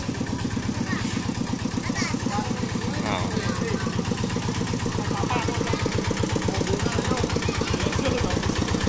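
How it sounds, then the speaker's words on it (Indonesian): The diesel engine of a rail trolley, fitted with a car transmission, chugs in a fast, even rhythm of pulses at close range, steady and fairly loud throughout, with faint voices in the background. "Pakai mesin diesel dengan transmisinya pakai transmisi mobil. Diesel getek ya."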